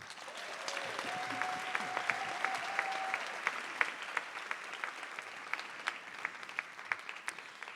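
Festival audience applause in a hall, continuous clapping at moderate distance with individual sharper claps standing out as it thins toward the end, and a faint tone briefly in the background.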